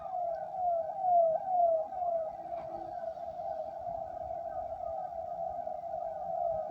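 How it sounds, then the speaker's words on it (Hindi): A siren wails in the distance, its pitch sweeping up and down in repeated cycles under low background rumble. "सायरन बज रहा है, आप भी सुन रहे हैं, सायरन की आवाज आ रही है खूब।"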